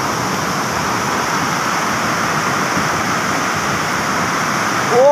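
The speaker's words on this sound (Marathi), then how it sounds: "तर हा धबधबा बघा असला रौद्र रूप घेऊन आहे" A waterfall swollen after heavy rain roars with a loud, continuous, close rush of churning water, with no speech over it.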